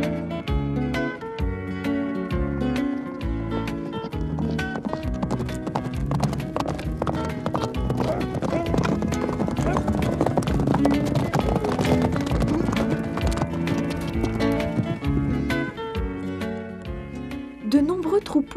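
Rhythmic clip-clop of horse hooves running with a horse neighing, loud and close, with music-like layers underneath.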